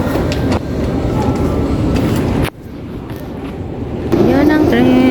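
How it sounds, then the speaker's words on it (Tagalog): A Taipei subway train arrives at a station with a loud rolling rumble and clatter, then a brief drop before the noise swells again, ending in rising squeals, under a person talking. "Train arriving."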